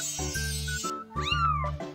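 A cartoon kitten in a Babybus animation gives a clear rising-and-falling meow over bouncy background music.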